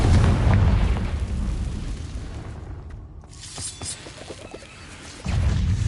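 A booming fiery blast from the Confringo spell in Hogwarts Legacy on PS5, cast in a cave: a heavy burst up front, a rumbling tail with crackling debris, then a second loud blast near the end.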